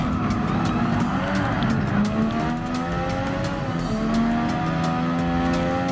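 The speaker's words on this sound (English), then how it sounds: "I'm just trying not to be more precisely careful whenever I'm using this Formula 1 car" A Formula 1 race car in the Gran Turismo Sport video game, its engine droning at steady high revs throughout, with pitch rising and falling through gear changes and faint tire noise, loud and continuous without talk.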